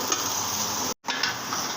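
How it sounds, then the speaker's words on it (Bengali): Onions, green chillies and potatoes frying together in a pan, a steady close sizzle and crackle of hot oil with a brief silent break midway, no voices. "এখন আমি পেঁয়াজ আর কাঁচামরিচ একসাথে, আলু একসাথে ভেজে নেব"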